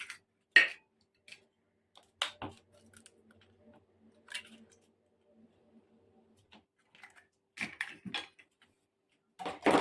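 Two eggs handled in a bowl give a few sparse, faint clicks and taps of shell against the dish, separated by long stretches of near silence.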